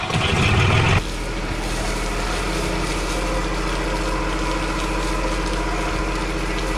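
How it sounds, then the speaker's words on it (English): A sailboat's inboard engine idles steadily out of the water after years unused, a constant low mechanical drone with a louder, rougher burst in the first second before settling into an even rumble. "So basically what we are doing now is just leaving the engine on a little bit,"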